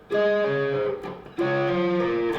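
Two short phrases of sustained, ringing guitar notes from a riff, each sliding between pitches, separated by a brief gap; clear and close with no talking.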